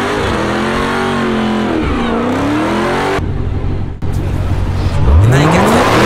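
A Dodge Challenger Hellcat Redeye accelerates hard, its supercharged engine howling loud and close through rising revs, a brief dip, then surging again.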